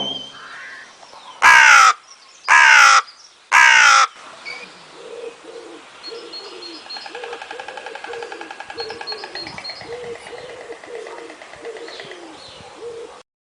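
A crow gives three loud, harsh caws in quick succession close by, then softer coos and chirps of pigeons and other birds continue in the background.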